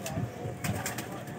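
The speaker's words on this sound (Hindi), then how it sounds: "बहुत ही परवाज वाले कबूतर हैं ये" Pigeons of a long-flying Indian breed give low cooing murmurs at close range, a few soft throaty bursts over a steady background hum.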